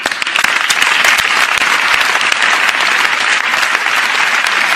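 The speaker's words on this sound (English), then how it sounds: "why are they clapping along with this?" An audience applauding steadily, with dense, continuous clapping from a large crowd.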